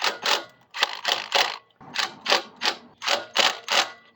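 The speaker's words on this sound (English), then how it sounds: "We'll just tighten these down. It's going into aluminum." A ratchet wrench tightens bolts into aluminum on a CT200UEX trike during regearing: close, loud bursts of rapid clicking in a steady rhythm of repeated strokes, separated by brief pauses.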